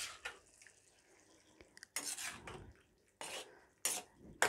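Milk is stirred into carrot halwa in a pot, giving scattered scraping and clinking bursts of a utensil against the metal pot with quiet pauses between strokes, close and moderately loud.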